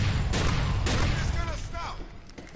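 Heavy weapon fire booms and rattles in Grand Theft Auto IV, dense loud shots in the first half fading toward the end, with a voice talking over it.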